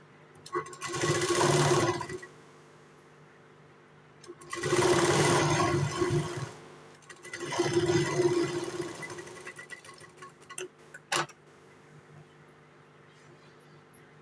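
Three bursts of a sewing machine stitching a blouse, each running a couple of seconds with pauses between, followed by quieter handling clicks; close and fairly loud.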